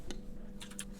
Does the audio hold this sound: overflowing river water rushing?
no